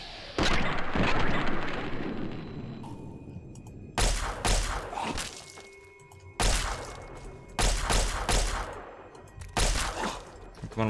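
Gunfire in Fallout 3, a handful of heavy booming shots in separate bursts, each loud and sharp with a rumbling tail and quieter stretches between.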